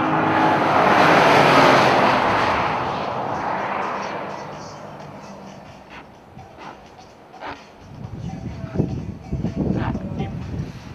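A Chevrolet Corvette Stingray on a race track roars loudly at first, fades, then returns with sharp pops and crackles from the exhaust near the end.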